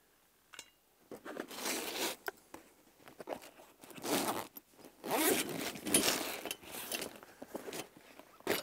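A zipper on a soft camping cooking bag from a four-wheel-drive camp kit is pulled open in several long, rasping strokes with short pauses between them, close and fairly loud, and no one talks.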